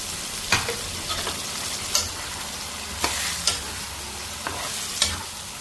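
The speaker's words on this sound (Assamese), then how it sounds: "ভালকৈ লাৰি দিম ভাজি পেলাই" Ground masala fries in a pan for Assamese-style chicken curry, with a steady low sizzle and a handful of sharp spoon scrapes and clanks at irregular intervals, close and clear with no talk.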